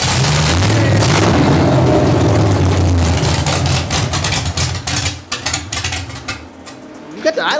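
A tractor's engine idles roughly after a cold start, a loud, steady low chugging that fills the clip before dropping away in scattered bursts near the end.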